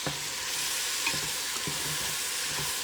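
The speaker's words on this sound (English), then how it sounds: "let me stir this all up first" A spoon stirs shrimp okra gumbo with onions in a pot, producing soft scraping strokes over a constant gentle sizzle. It is close and moderately quiet, with no voices.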